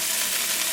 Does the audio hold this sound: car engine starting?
no